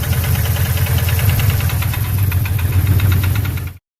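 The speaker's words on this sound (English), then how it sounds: "You may hear a noise or knocking sound when your VVT solenoid is bad" Steady, close rhythmic knocking from a car engine with a faulty VVT solenoid, running loud and even under a low idling drone for about four seconds before cutting off.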